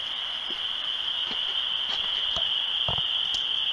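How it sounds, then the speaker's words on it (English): Crickets chirp outdoors at night in a steady, shrill, continuous drone, with scattered faint clicks and knocks in the background and no voices. "Listen to the crickets out here."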